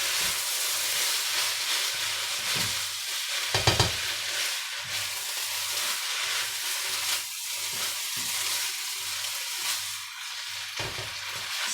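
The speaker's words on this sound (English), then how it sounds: "let's give this a bit more of a stir" Nasi goreng fried rice with prawns sizzles and hisses in a hot pan, with short scraping stirs and clinks of a utensil breaking through the constant frying noise, close and with no talking.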